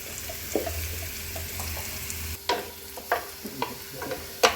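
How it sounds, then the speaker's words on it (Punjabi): Garlic and onions fry in a pan for Punjabi sarson da saag, a soft sizzle broken by sharp scraping and clacking stirring strokes that grow more frequent toward the end, close by and with no speech. "ਲਸਣ ਤੇ ਇਹਦੇ ਚ ਮੈਂ ਪਿਆਜ਼ ਪਾ ਕੇ"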